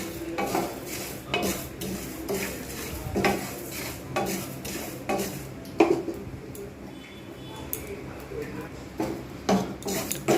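Masala spices dry-roasting in a pan for an instant Bengali spice mix, with soft scraping and stirring clicks from a spoon against the pan, fairly faint and close, and quiet background noise.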